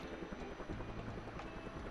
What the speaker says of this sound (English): Let's turn the helicopter on.